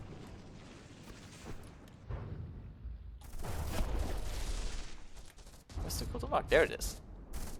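CRAM shells fire in a robot battle game, a burst of booming gunfire and heavy rumbling impacts with a few sharp bangs near the end, while someone talks over it.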